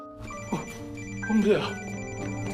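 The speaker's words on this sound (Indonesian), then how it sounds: "mendengar dering teleponnya lalu menuju ke arah suara tersebut" A telephone ringtone rings steadily with sustained electronic tones at moderate loudness, while voices speak over it.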